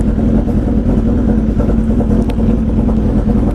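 A stretched 2007 Suzuki Hayabusa sport motorcycle with 3,300 miles is running. Its engine is close and very loud, holding a steady, throbbing idle rumble throughout, with no speech over it.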